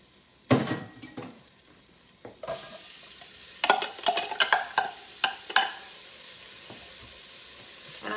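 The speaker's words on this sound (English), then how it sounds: "You'll probably be able to hear it simmering" Soup bubbling and simmering in a pot on the stove, with soft sizzling and scattered clinks of a utensil scraping and stirring against the pot, moderately close.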